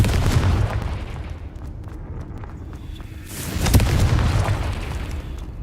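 A Confringo spell blast in the video game Hogwarts Legacy, a deep rumbling boom that swells, fades, then hits again with a sharp crack and roaring low rumble, loud and close.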